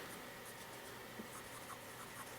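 An Aihao 202503 fountain pen with a fine-writing nib moving across paper, a soft, faint scratch of nib strokes heard close up and alone, with small ticks as the pen lifts and lands.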